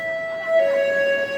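An ambulance siren passing on a city street, a steady high wailing tone that swells slightly as it goes by, loud and close, with no talk over it.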